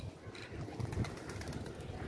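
A young pigeon coos softly on a rooftop among other pigeons, a low murmuring call close by over faint background noise.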